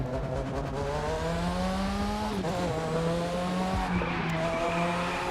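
A car drifting sideways in The Crew 2 racing game, engine droning steadily under a continuous screech of squealing tires that shifts pitch as the slide is held, loud and close throughout.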